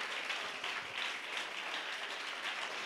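A church congregation claps hands in praise during a Tamil Christian sermon, a dense, steady wash of applause that holds at an even level for about three seconds with no voices above it.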